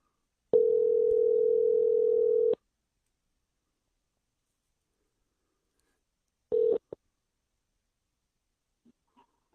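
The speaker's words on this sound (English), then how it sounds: "Let me try to call him. I'm going to call him from this phone." Telephone call placed from a mobile phone that goes through to voicemail: a steady electronic tone lasting about two seconds, a long silence, then a brief repeat of the tone with a few faint clicks, and no voices.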